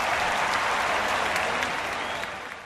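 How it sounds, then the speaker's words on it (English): A stadium crowd of USC fans roars at the Coliseum in a retro college football video game, a dense, loud, continuous wash of cheering and clapping that fades slightly toward the end. "USC fans cheer at the Coliseum"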